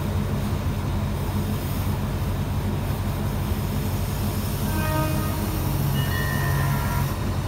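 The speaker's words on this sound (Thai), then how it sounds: "ขบวนรถที่จอดเทียบชานชลาที่1ขณะนี้เป็นขบวนรถชานเมืองขบวนที่ 351" Suburban train 351 on the Thonburi–Ratchaburi line stands at platform 1 of Ban Pong station in Thailand. A steady rumble of wagons and machinery fills the platform, and a few faint squeals and tones sound late on.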